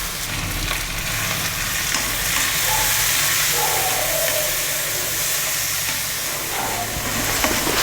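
Chopped tomatoes sauté with onion in a hot pan for a quick breakfast dish, giving a continuous loud sizzle and steamy hiss with occasional stirring scrapes.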